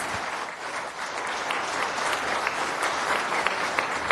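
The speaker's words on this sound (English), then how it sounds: "I appreciate the clapping" Audience clapping at a city council meeting, a steady dense wash of applause from many hands in a hall, moderately loud and continuous throughout with no talk over it.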